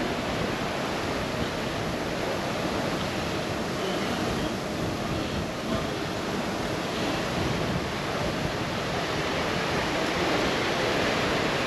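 Open ocean seen from the Carnival Conquest cruise ship out of Miami, a steady broadband wash of waves and wind rushing against the hull, continuous and fairly soft with no clear individual breakers.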